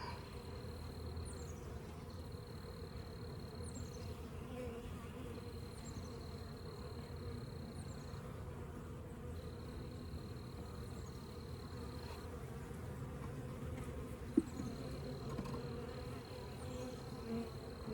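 Honeybees buzz steadily around a swarm hive, a faint continuous hum over a quiet outdoor background, with no talking.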